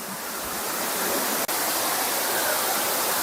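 Steady close roar of water pouring down at Aruvikkachal waterfall in Kottayam, loud and unbroken apart from a split-second dropout midway, no voices present.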